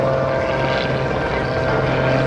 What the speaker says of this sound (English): That Oracle Challenger looks like an older biplane, but it's not.